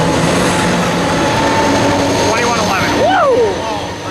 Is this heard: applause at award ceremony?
no